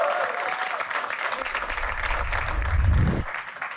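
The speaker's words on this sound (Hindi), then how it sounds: "जोरदार तालियां इनके लिए।" Audience applause at a live comedy talent show, a dense wash of clapping that builds and swells toward the end before stopping abruptly.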